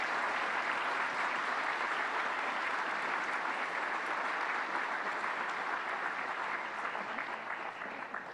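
Steady, dense applause from an awards luncheon audience at the SAMCEDA Awards of Excellence, a continuous wash of many hands clapping, moderately loud throughout and easing slightly at the end.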